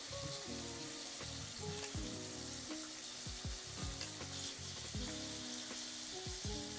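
Bacon frying in a pan gives a dense, steady sizzle, with repeated metallic clicks and scrapes as tongs flip the strips several times, close and quiet, with no voices.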